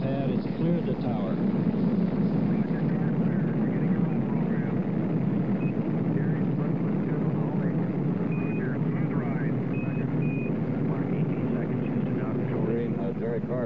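Steady, dense roar of the Skylab 4 launch in November 1973, engines building toward 1.6 million pounds of thrust as the rocket lifts slowly off the pad, a loud continuous rumble without a break.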